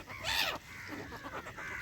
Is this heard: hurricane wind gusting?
no